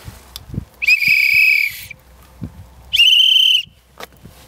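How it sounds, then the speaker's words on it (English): Two long, shrill safety whistle blasts on the ice while ice fishing, each about a second, sounding loud and close with a quiet pause between them. "I like to have a whistle to let people know if I do fall through"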